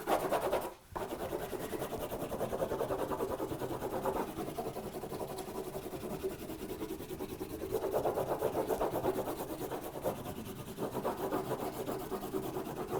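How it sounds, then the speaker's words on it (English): A graphite stick or soft pencil scribbles steadily across the back of a sheet of watercolour paper, making a continuous close, soft rasping rub that rarely pauses. "I'm going to scribble on the back of it with a graphite stick or a soft"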